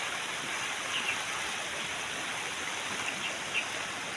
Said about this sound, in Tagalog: Napakalakas ng ano ng tubig